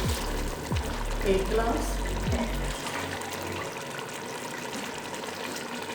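Water is poured from a glass into a cooking pot for potato and pea pulao, a close splashing stream for the first few seconds that then stops, with a voice speaking over it.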